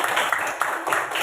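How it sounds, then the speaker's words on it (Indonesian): Classroom children clap for a classmate, a dense, steady patter of many small hands close by, with a few sharper claps standing out through the short burst. "Tepuk tangan buat Dilan."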